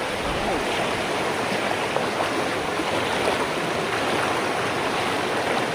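Strong water rushes through a village stream, a broad, steady roar of churning flow that stays loud and close for the whole stretch.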